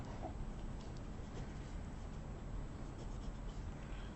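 Pen writing an exam answer on paper, a steady soft scratching that runs continuously and close at low volume, with no voices.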